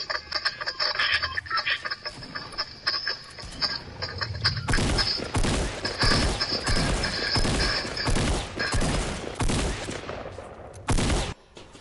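Rapid bursts of gunfire in the video game Fortnite, including shotgun blasts, coming as dense volleys of sharp cracks that intensify midway and then stop abruptly near the end, loud and close over a continuous game background.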